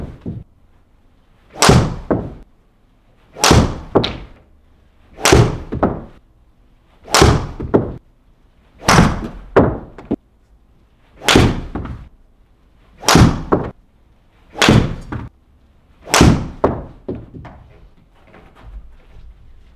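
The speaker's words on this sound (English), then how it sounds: "that was Finn hitting his 10 shots with the Hazardous stiff shaft" Ten golf shots struck with a Stealth 2 HD club fitted with a stiff shaft, heard as sharp, loud impacts at a regular interval of about two seconds, with short quiet gaps between them and no talking.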